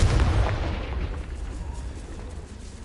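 The Confringo fire spell goes off in Hogwarts Legacy as a heavy, booming blast that swells at the start and then rumbles and fades over a few seconds, loud and close.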